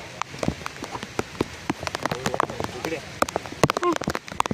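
Steady monsoon rain patters and drips all around on a mountain trek path in the Sahyadri hills, with people talking under the rain throughout.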